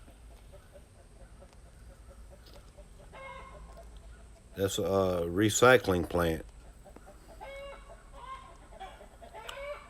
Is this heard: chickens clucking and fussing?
yes